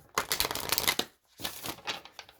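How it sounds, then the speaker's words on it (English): A deck of playing cards being shuffled up close in two quick, crisp riffling bursts separated by a short pause, with no talk over it. "Okay, that was the worst shuffle I ever done."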